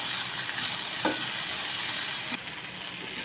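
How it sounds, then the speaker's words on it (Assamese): Banana flower bhaji fries in a pan with a steady, close sizzle that hisses without pause, broken by a couple of brief stirring scrapes. "আৰু এতিয়া গোটেইখিনি ধুনীয়াকৈ ভাজি ল'ম"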